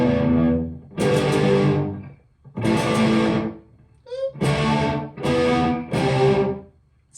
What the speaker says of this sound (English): Woo, that's a lot of echo.